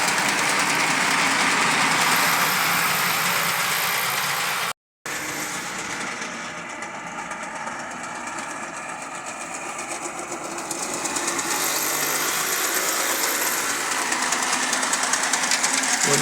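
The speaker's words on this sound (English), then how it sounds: "So 2 of the gearboxes aren't real happy and make a bit of noise." A vintage Santa Fe model diesel locomotive from the Museum of Science & Industry in Chicago runs with a continuous mechanical whir and grinding from its noisy gearboxes, close and fairly loud, with one brief dropout.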